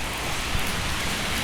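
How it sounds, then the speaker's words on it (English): Steady broadband hiss of wet road noise and rain in a field recording of cars passing in the rain, continuous and fairly loud with no distinct individual pass-by and no voices. "I also have a field recording that I took of cars going past in the rain"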